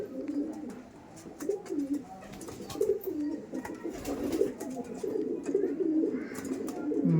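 Pigeons coo steadily in low, rolling murmurs, several birds overlapping continuously at close range, with no talking.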